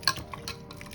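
Chopped onion, coriander, green chilli, ginger and coconut with water are squished and mixed by hand for ragi rotti, a brief close burst of wet squelching and light clinks.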